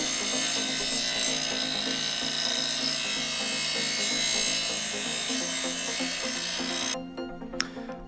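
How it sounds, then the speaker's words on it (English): Power grinding on a model N scale narrow gauge bridge, rounding over its shoulders: a steady, continuous abrasive whir and rasp running close and loud for about seven seconds before cutting off, leaving a few faint clicks. "we've got our grinding done. We've got our 4 shoulders rounded over"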